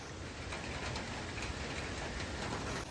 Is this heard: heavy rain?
yes